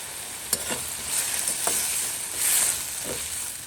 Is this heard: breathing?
no